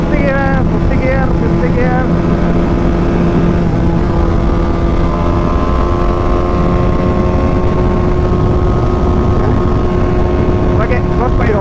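Apache RR310 or KTM Duke 250 motorcycle pulling hard in a high gear during a road drag race, with a steady loud engine drone and heavy wind rush, plus brief revving changes at the start and end.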